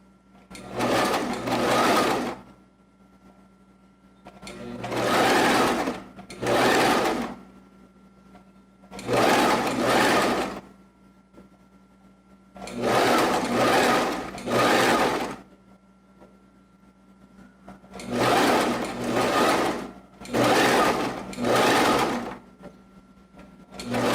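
A sewing machine stitches fabric around angles and curves in six loud, close bursts of steady running, each lasting a second or two, separated by quiet pauses.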